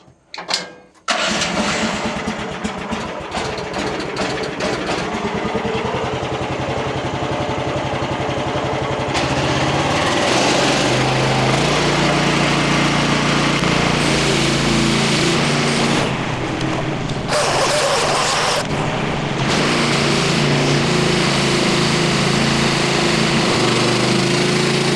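A portable sawmill engine cranks and catches, then roars steadily at close range and loud, rising in pitch partway through as it settles in to mill a log for porch posts and beams.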